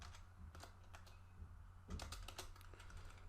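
Keystrokes on a computer keyboard tapping in short irregular bursts, with a denser cluster near the middle, quiet and close against a low steady background hum.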